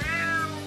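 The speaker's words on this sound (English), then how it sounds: "Damn cat." A cat meows in a video game, one drawn-out, close and clear cry with no talk over it.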